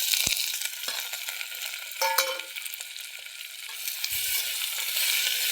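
Potatoes and tomatoes sizzle softly in a pan as they are stirred, a steady hiss broken by a few light scrapes and clinks of the spoon.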